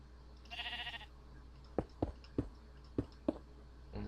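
A short, close sheep bleat with a wavering, nasal tremble comes from Polycraft, the Minecraft-style game, followed by a quick string of soft block-placing taps.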